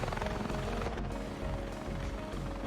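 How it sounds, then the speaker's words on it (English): In a video game, a helicopter gives a loud, continuous rotor thrum with dense rhythmic chopping that stays steady throughout and has no speech over it. "So I've got the helicopter."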